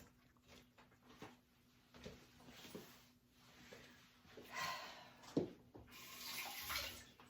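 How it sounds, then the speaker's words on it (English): Tap water running over food being rinsed at a sink, a faint splashing flow with clinks and handling noises that grows louder toward the end. "got the one off the floor, rinsed it off, drying it"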